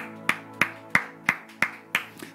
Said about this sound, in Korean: 우리 주님께 박수하면서 자리에 앉겠습니다.